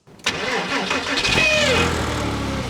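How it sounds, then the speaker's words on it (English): A Porsche Boxster's flat-six engine cranks briefly, catches with a sharp burst, then revs up and settles into a throaty, rumbling idle close by. "I can turn the key and I can hear my flat 6 Porsche engine starting"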